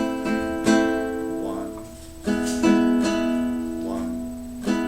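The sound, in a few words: guitar chords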